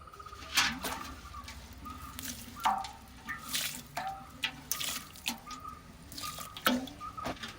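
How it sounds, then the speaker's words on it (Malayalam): Water splashes and trickles in uneven bursts, with several louder pours and drips over steady gurgling; birds chirp faintly in the background. "നമുക്ക് വെള്ളം ഒഴിച്ചു കൊടുക്കാം"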